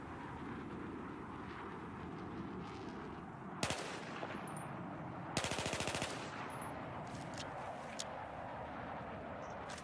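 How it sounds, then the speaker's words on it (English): Sustained full-auto gunfire in the video game Battlefield, a dense unbroken rattle of rapid shots over rumbling background, with two sharper bursts standing out midway, loud and continuous throughout. "To fire your gun in full auto, hold the R1 button"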